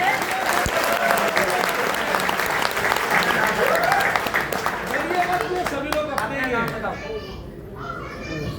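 Loud, sustained applause from a seminar audience at a women's empowerment event in an Agra hotel hall fills the clip, with voices and chatter underneath and children's voices mixed in. The clapping thins toward the end.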